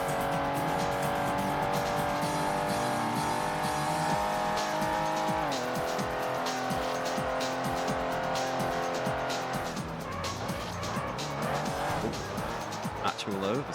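In the PS1 game Ford Racing, a car oversteers with a whining engine and squealing tires, the engine pitch dropping and shifting while tire noise rises; a voice talks over the game audio.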